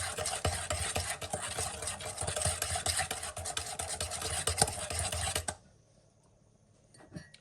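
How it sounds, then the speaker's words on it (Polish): A spoon mixes rhubarb cake batter in a bowl with fast, continuous close scraping and swishing strokes for about five seconds, then stops, leaving near silence and one soft knock. "mieszam sobie dla połączenia składników"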